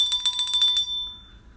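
A bright bicycle-style bell rings as a sound effect, about seven rapid dings in quick succession, followed by a ringing tail that fades out, loud and close with no voices.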